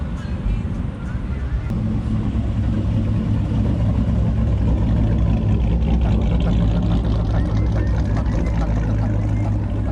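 A truck engine, reportedly fitted with a ghost can exhaust, idles and runs at a Sunday truck meet on the Southside of Oklahoma City, giving a loud, steady, close low rumble that holds throughout.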